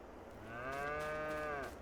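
A single long moo from cattle on a farm in Farming Simulator 22, rising and holding with a rich, resonant tone for over a second before fading, fairly close and alone.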